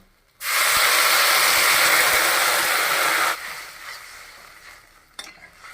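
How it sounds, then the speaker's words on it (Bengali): Water is poured into a pan of fried potatoes and bitter gourd for a Bengali fish-head dish. A sudden loud hiss bursts out close by for about three seconds, then drops to a quieter simmer with a faint clink, and no one speaks. "সবজিটা ভাজা হয়ে গেছে, আমি এখন জলটা দিয়ে দিচ্ছি।"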